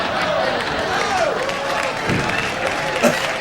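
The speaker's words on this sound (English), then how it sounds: "You hear the crowd? You hear the crowd?" A live studio audience at a Saturday Night Live comedy news segment cheers and applauds in a steady, dense wash of crowd noise that holds for several seconds, with a few louder whoops rising out of the roar.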